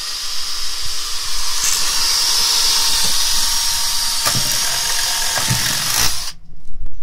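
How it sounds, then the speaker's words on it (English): A power drill whines continuously at high speed for several seconds, with a few clunks, before abruptly cutting off. "Step 1. Drill."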